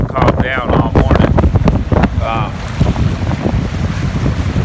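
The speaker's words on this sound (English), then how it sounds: "The wind is blowing a lot," Strong wind at Big Bear Lake buffets the microphone with loud, gusting rumble and whoosh, while a person talks over it during the first half.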